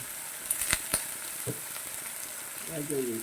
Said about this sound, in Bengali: চিংড়ি মাছ ভাজা হয়ে গেছে নামিয়ে নেব